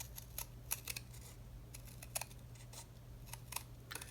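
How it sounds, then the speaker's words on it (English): Scissors cutting a single thickness of paper along a pattern for a tag booklet, a series of faint, crisp snips at an uneven pace over low background hum. "I'm just cutting along the pattern."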